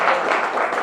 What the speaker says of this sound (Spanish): Démosle un aplauso al Rey de la Gloria.